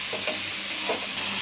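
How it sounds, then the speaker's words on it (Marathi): Sliced onion frying with salt in a pan, a steady close sizzle and hiss with faint stirring scrapes throughout, no voices. "आपण मीठ टाकायचं आणि कांदा पण चांगला भाजतो"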